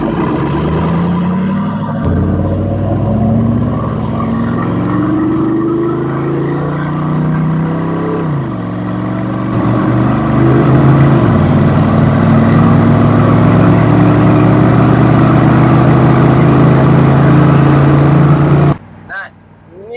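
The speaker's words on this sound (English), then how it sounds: "Nothing like a 30 V8 throwing some noise out some side pipes" Corvette V8 firing through side pipes on a 0 to 60 run from a dead stop, a loud, close engine roar rising through several gear changes before cutting off abruptly.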